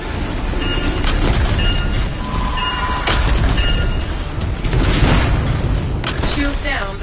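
A detonation in the video game Anthem, with deep booming blasts and crashing rumble over a dense, loud in-game soundscape with voices.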